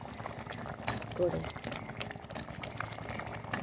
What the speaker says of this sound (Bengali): এবার আমি ভাজা মাছগুলোকে দিয়ে কিছুক্ষণ 5 মিনিট ফুটিয়ে নেব হালকা